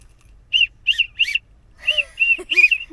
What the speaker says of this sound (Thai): นกหวีดนี่นกหวีดน้องเป่าดิ